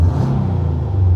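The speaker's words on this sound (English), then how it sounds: "So just listen to the engine for a second." A Toyota GT86 fitted with Tomei parts idles with a steady, deep, Subaru-style rumble, loud and close, holding an even tone throughout the brief moment.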